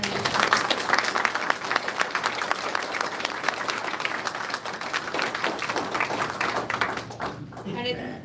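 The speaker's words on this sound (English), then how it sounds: "Please join me in a round of applause to thank our candidates." Sustained audience applause at a local political candidates' debate, dense clapping from a crowd filling the room, steady and loud before thinning out near the end.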